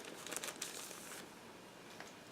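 A small plastic bag holding decals for a 1/72 Special Hobby Mirage F.1 scale model kit crinkles close up in short bursts. The sound is faint, quiet and has no talk over it.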